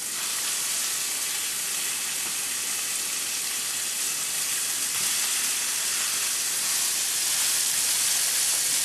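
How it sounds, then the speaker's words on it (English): Thick burgers fry in a pan on a stovetop set to medium heat, giving a steady, even sizzle and hiss that holds at a constant level throughout with no talk. "place your burgers on the pan"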